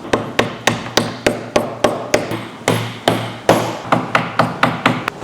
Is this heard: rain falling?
no